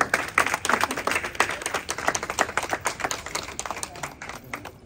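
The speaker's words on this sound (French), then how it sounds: "applaudissez très fort ma petite équipe" Audience at a beauty and hairdressing school diploma ceremony applauds the team with dense, sustained clapping that runs steadily throughout, fairly close and lively with many individual claps.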